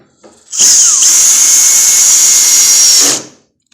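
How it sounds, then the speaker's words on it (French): A power drill drives a screw into solid wood parquet flooring in one loud, close, continuous high whir lasting about two and a half seconds, starting abruptly and winding down, with no talking. "Donc pour visser, j'utilise le débrayage de ma machine."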